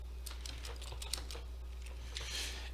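A password is typed on a computer keyboard with a quick run of light, close key clicks in an uneven rhythm over a steady low hum.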